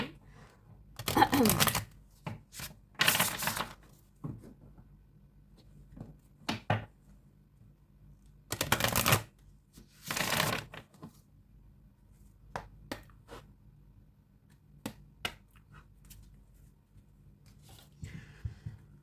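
Dark Mirror Oracle cards being shuffled by hand: several bursts of crisp riffling and slapping, separated by quiet pauses and softer rustles, close to the microphone with no talking.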